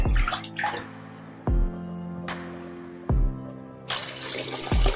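Water poured into a pot of rice porridge (nonbu kanji) as it cooks, a steady rushing splash with several sharp clanks of a vessel or pot against metal.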